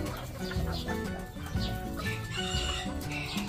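Bantam chickens cluck in a cage, a steady run of short, overlapping clucks and calls with some wing flapping, fairly near and continuous without speech.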